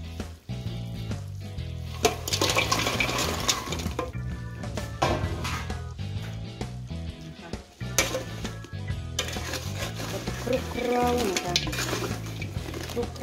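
Krong kraeng snacks are stirred through a sticky sugar coating in a pan, with repeated close scraping and clattering of a utensil against metal and a faint sizzle throughout.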